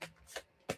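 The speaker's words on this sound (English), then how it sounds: "Just shuffling cards here so it comes out." A deck of cards is shuffled at a table in three quick, soft riffling bursts, close and quiet with no talking.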